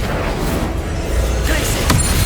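Incendio fire spell cast during combat in Hogwarts Legacy on PS5, a loud, continuous roaring whoosh with a deep rumble, plus a short sharp crack near the end.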